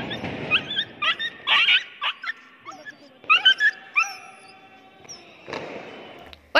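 A frightened dog whimpers and yips in high, wavering bursts during Diwali night, close and fairly loud, with scattered pauses and faint background noise.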